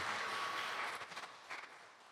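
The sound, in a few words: congregation applause welcoming people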